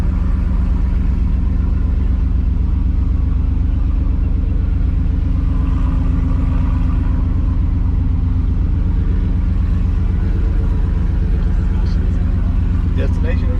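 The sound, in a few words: Ford Lightning truck engine rumbling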